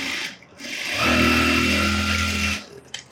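A tailoring sewing machine stitches along a marked line on fabric lining, running in one steady, close mechanical whir for about a second and a half before stopping.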